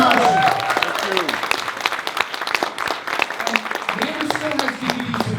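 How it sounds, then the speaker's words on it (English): Audience applause at a Sci Fi London film Q&A: a dense burst of clapping lasting several seconds, with some voices and cheers mixed in. "But please give a big round of applause for Dane."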